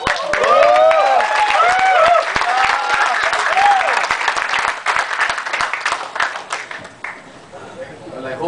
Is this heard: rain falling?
no